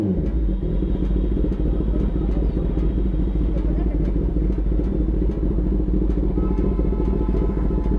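A Kawasaki ZX-10R motorcycle engine idles and rumbles steadily up close on a ride, a dense continuous low drone with faint clatter throughout and people talking over it.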